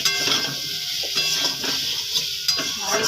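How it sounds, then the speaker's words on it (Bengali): A Bengali fish curry with drumsticks, potato and turmeric is stirred in a sizzling pan. Rhythmic scrapes and knocks of the spoon sound close over a steady hiss, and no one speaks. "ভালো করে নাড়াচাড়া করে নিলাম।"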